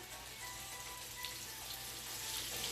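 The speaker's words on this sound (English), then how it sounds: "I'm going to go in with my chicken pieces. Got a nice little sizzle on there." A soft, steady sizzle of chicken pieces frying in a hot pan, faint and continuous with a light crackling hiss.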